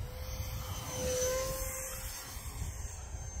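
An E-flite Habu SS 50mm electric ducted-fan RC jet flying into the wind near half throttle, giving a steady whooshing whine with a thin tonal hum that swells slightly as it passes, heard from a distance over wind noise.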